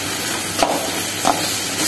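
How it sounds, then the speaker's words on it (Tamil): A spoon scrapes and stirs masala for turkey berry kulambu in a hot pan over a steady frying sizzle, with two brief scraping strokes. "இது எல்லாத்தையும் நல்லா கலந்து விட்டுக்கலாம்."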